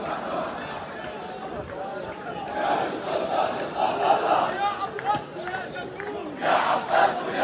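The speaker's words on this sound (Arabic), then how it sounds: "يعني في هتافات" A crowd chants and shouts at Al-Aqsa Mosque in Jerusalem after Friday prayers. Many voices rise and fall in loud, dense waves, with the loudest bursts near the middle and end.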